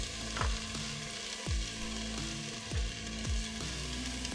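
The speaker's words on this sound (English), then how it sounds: "So I'm going to saute those for about 3 minutes." Vegetables sautéing in a pan for homemade spaghetti sauce, a soft steady sizzle broken by regular scraping knocks of a stirring utensil.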